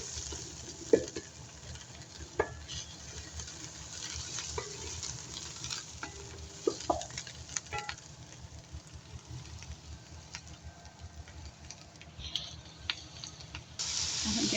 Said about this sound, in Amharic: አሁን ሽንኩርቴን እያቁላላሁ ነው።